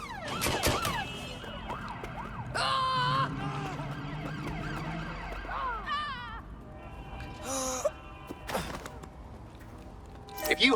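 A wailing ambulance siren sweeps up and down in the Watch Dogs: Legion video game, weaving among street noise, bursts of effects and voices talking.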